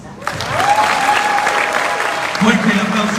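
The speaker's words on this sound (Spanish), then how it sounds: "Fuerte el aplauso para nuestra directora de especialistas, doctora Romina Malano." An audience at a presentation event breaks into sustained, dense applause for a specialist director. The clapping is loud and continuous, and a voice talks over it.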